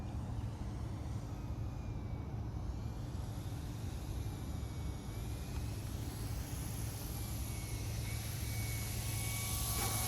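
An RC P-51 model airplane, a 1700mm warbird with gear and flaps down, drones faintly overhead on approach to land, a steady distant motor whine over outdoor background noise.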